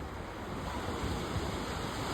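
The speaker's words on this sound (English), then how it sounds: "The waves are still coming in the same motion." Ocean waves roll in at sunset, a faint continuous wash of surf mixed with wind rumble, with no voices.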